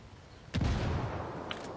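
A frag grenade goes off in Ghost Recon after a short quiet lead-in, landing as one sudden heavy boom that rolls into a lingering rumble, with a faint sharp crack near the end.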